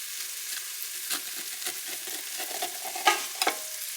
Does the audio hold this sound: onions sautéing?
yes